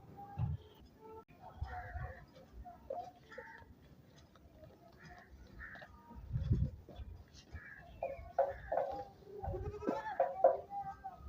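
Goats bleat repeatedly at close range on a small livestock farm, their calls rising in short, uneven bursts, with occasional voices in the background.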